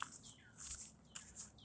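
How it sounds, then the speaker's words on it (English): Short bird chirps and tweets heard outdoors, a few quick calls spread across a moment, fairly faint over quiet background noise. "That's an interesting sounding bird."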